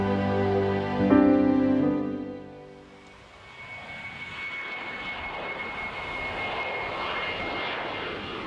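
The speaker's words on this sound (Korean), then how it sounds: "서둘러 촬영을 마치고 고두심은 제주행 마지막 비행기를 탔다" A fixed-wing airplane's engines drone loudly, tonal whine settling into a broad steady roar as the aircraft passes, close and continuous with no voices.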